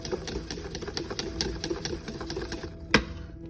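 An electric mixer whisks tiramisu batter to a light yellow, giving a steady rhythmic mechanical whir, close and moderately loud, ending in a sharp clack, with no speech.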